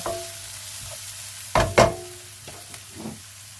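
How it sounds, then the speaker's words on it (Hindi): Red and green chilies sautéing in a pan for a veg sandwich filling, a low steady sizzle with two louder bursts of stirring or tossing midway and a few fainter scrapes after. "थोड़ी सुरख मिर्च, सब्ज़ मिर्च डाल दी, सौते किया"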